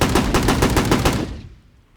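A designed game gunshot built in REAPER, with a pitch-shifted shot and a newly added tail: a dense rattling burst of rapid shots, then a smooth tail that fades out over the final half second, loud and close.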